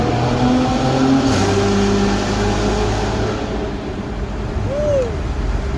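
A modified Infiniti Q60, tuned to 525 hp, revving steadily with its exhaust opened up, a loud sustained engine drone that dips and swells, close and dominant throughout.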